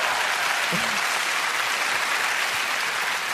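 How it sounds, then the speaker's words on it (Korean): Steady applause from a crowd, dense and continuous throughout, with no talking over it. "여러분 경려의 박수 한번."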